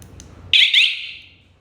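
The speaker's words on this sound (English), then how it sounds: "Press one time, activate the alarm mode." Car and motorcycle GPS tracker alarm (TK100B/GT06B) triggered by remote, a loud sharp electronic siren chirp that bursts in, repeats once, then fades out over about a second, heard up close after a brief low rumble.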